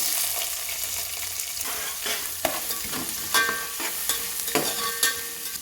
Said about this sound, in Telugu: ఇప్పుడు ఉల్లిపాయ వేసుకోవాలండి